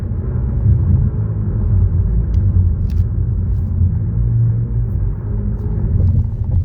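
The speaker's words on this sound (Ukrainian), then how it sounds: "Це я знову їду по одній знамениті тут вулиця Честер Авеню." A car driving along Chester Avenue, a street in the United States, gives a steady low rumble from inside the vehicle that holds at an even level throughout, with no talking.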